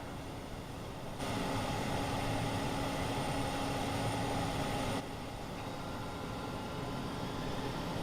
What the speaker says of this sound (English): That's the reversers.